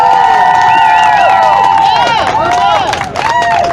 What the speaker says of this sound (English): Can you applaud that?